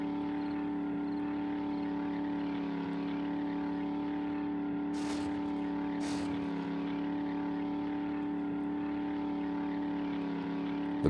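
Truck engine driving in the game 7 Days to Die, a steady loud droning hum with constant pitch throughout, broken by two short bright bursts midway, with no talking.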